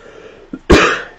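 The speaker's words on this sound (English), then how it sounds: "excuse me for coughing" One loud, close cough bursts out after a brief throat noise, sharp at onset and trailing off quickly in a quiet indoor setting.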